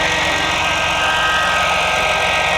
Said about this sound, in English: You won't be able to hear me over the ridiculously loud fan.